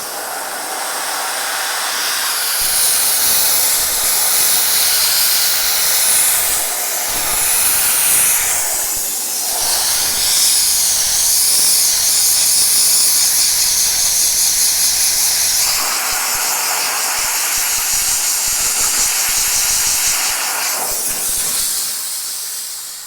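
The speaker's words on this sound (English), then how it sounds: "you can still use the steamer on the paint" Loud, continuous steam hiss from a steam cleaner blasting grime off car paint, roaring steadily for over twenty seconds with slight surges and dips as the nozzle moves.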